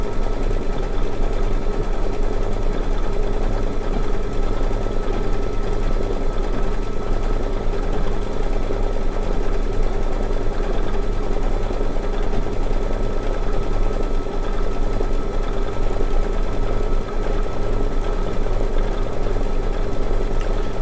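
A small sewing machine runs continuously for a quilt project, a loud, even motor hum with a steady rapid stitching rhythm that never pauses, heard alone without talk.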